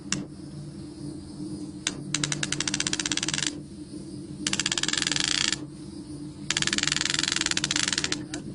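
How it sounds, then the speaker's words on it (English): Three runs of rapid metallic clicking come from a ratchet tightening electric fence braid, each a quick even burst lasting about a second, close and crisp over a low background hum. "Now, tighten the braid with the ratchet system."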